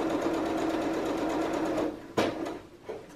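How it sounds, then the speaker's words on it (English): A domestic sewing machine runs a steady back-stitched seam on a dressmaking jacket project, a fast continuous whirring hum for about two seconds, then stops with a short click and a few light mechanical taps. "I'll just take a little back stitch to secure, and away we go."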